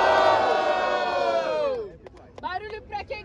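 A live audience at a rap battle in a regional qualifier roars and cheers loudly, shouts swelling together, then fading into scattered whoops and yells.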